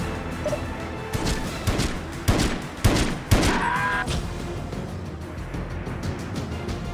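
Gunfire in the James Bond 007: Everything or Nothing video game, a rapid string of loud shots and bursts with sharp impacts, then fading to background game ambience.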